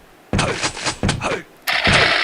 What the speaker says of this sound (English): Ooh, very, very nice shot by Ray